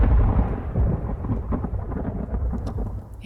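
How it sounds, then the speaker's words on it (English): Heavy rain pours down alone with deep rolling thunder rumbling through it, loud and close at first, then easing slightly as the downpour continues. "It was raining outside."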